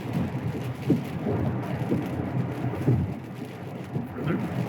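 Heavy rain pelting a Tesla while it drives, a steady dense hiss with soft periodic thumps roughly once a second, as if from wipers.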